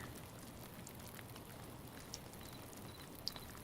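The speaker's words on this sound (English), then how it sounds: "we have a hole in our roof, which means it's raining on us" Rain in the Hytale video game falls through a hole in a roof, a faint, steady patter of drops with a couple of slightly louder taps.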